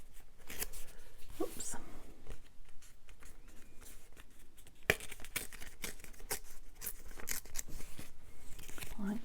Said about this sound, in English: So let's just tear around him.